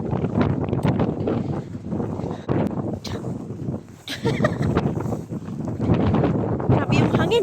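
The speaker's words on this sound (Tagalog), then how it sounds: "Grabe yung hangin." Strong gusting wind buffets the microphone outdoors on a snowy sledding hill in Finland at about three degrees, a continuous loud roar and rumble throughout, with a voice talking over it.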